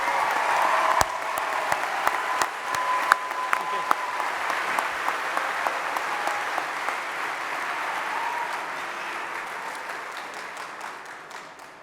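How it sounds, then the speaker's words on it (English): Applause at a university fall commencement ceremony, a broad, dense wash of clapping from a large crowd that holds steady and slowly fades, with a few louder claps near the start. "And one more round of applause for these people."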